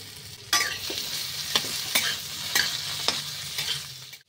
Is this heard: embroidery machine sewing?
no